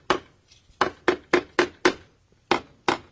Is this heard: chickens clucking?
no